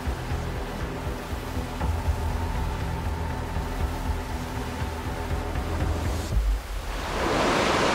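Steady roar of ocean waves washing in, a continuous broad surf rush with a louder hissing surge near the end, no voices, at night during kayak rescue training.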